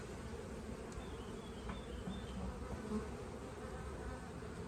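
Honeybees from an artificial swarm buzz steadily while being moved into a ten-frame hive. The hum is continuous and fairly close, with no voices.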